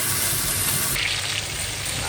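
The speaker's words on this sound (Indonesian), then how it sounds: "Jadi kita goreng dulu ayamnya" Chicken pieces fry in melted butter in a pan, giving a steady loud sizzle and hiss that continues without a break.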